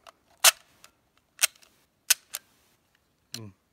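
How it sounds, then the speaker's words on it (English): Rifle cartridges pushed from a charger clip into the magazine of a Lithgow Lee Enfield No1 Mk3, a handful of sharp metallic clicks and snaps spaced irregularly, close by in quiet surroundings, with a brief voice at the end. "enter it into the charger bridge"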